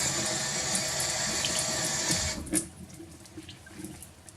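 A tap runs steadily as a microfibre cleaning cloth is soaked under it, close and loud, then the flow cuts off and soft wet handling sounds follow.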